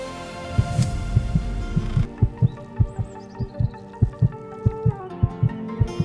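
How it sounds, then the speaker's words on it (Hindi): A loud, steady heartbeat sound effect from a Hindi TV serial thumps in a regular double-beat rhythm under a low hum, with no talk over it. "सियान बाबा के दिल के धड़कने की आवाज तेज हो जाती है।"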